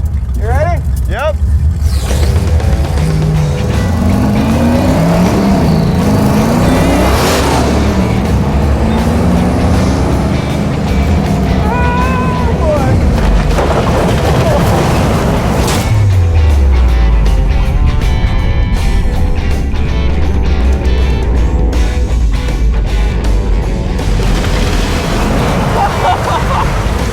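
A turbocharged junkyard Rotsun drives on a wet surface, its engine droning and surging with water hiss around it, while people talk throughout.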